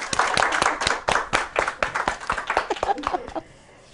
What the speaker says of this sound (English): So let's give him a nice round of applause.